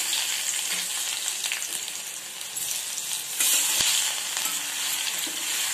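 Garlic frying in hot oil with spices gives a steady, loud sizzle throughout, with a brief spattering surge partway through and faint stirring clatter underneath.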